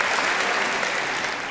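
An audience bursts into applause, a dense, steady patter of many hands clapping at once that carries on evenly and starts to thin right at the end.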